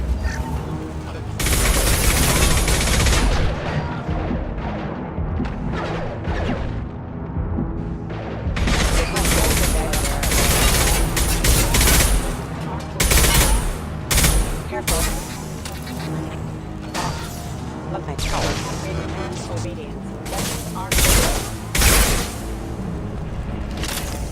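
Heavy gunfire in the Mass Effect 2 video game: dense bursts of automatic fire and loud booms in clustered volleys with short gaps, up close and loud, with voices speaking between shots.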